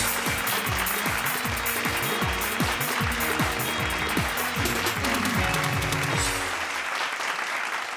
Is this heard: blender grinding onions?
no